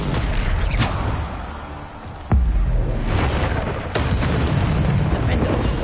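Bombarda spell explosions in Hogwarts Legacy gameplay, several booming blasts spaced a second or two apart with loud, sharp onsets and rumbling tails, alongside continuous game ambience.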